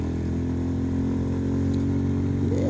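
Royal Enfield Goan Classic 350 motorcycle exhaust giving a steady low rumble while riding on the road, close and continuous with a slight rise at the end.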